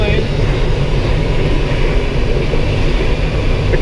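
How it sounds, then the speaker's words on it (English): Loud, steady wind roar fills the cockpit of a Schleicher ASK21 glider under tow behind a tow plane, a constant broadband rush with a low rumble underneath. "there's a lot of wind noise in here. It's not silent like I thought it would be"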